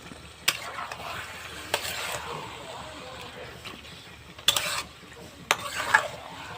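Taro greens and chickpeas are stirred and scraped in a pan, with soft sizzling and occasional sharp clacks of a spatula against the metal, heard close and fairly quiet.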